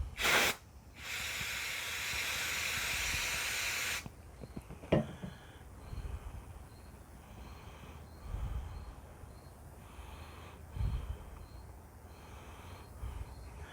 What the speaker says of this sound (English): I got some brake clean here. See if that won't take some of that off.